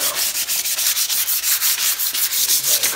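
A rusty RC car part scrubbed clean by hand, giving a steady rapid rubbing and sanding rasp with an even rhythm, loud and close, with no talk.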